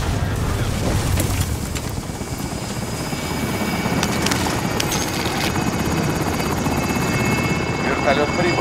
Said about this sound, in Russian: Вертолет прибыл. Готов забрать деньги.